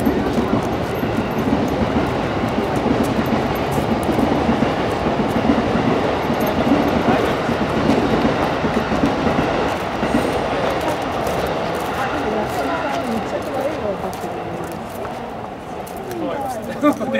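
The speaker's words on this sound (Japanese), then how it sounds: "電車の音嫌いなんです" A train rumbles past steadily throughout near Itabashi Station, a continuous heavy clatter with voices talking over it at a street political rally.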